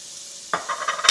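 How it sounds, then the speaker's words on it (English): A brief, close burst of butter sizzling in a hot skillet, with a soft hiss rising and crackling after a quiet start. "I want to put that into the pan. Hear that sizzle?"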